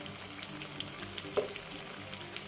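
Potato smiley fries crackle and sizzle steadily in hot oil, a dense continuous frying hiss with a few brief pops, close and moderately loud with no voices.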